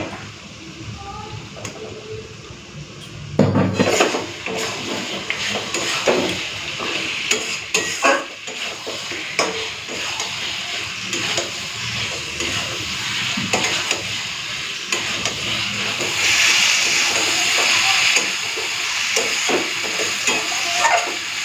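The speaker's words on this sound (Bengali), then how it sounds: "তারপরে মাংসটা দিয়ে ভালো করে কষতে থাকবো। তো এখন দিয়ে দিচ্ছি খাসির মাংস।" Goat mutton added to a hot pan for curry and stirred while frying: a steady loud sizzle with repeated scraping and clattering stir strokes, a sharper burst of frying as the meat goes in, close up.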